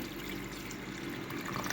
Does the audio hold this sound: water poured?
yes